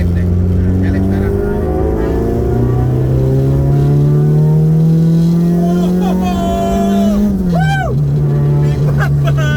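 A Honda Civic EG6 in full spec accelerates hard to overtake, its engine note climbing steadily in pitch for several seconds before a brief gear-change dip, loud and close from inside the cabin with voices speaking over it.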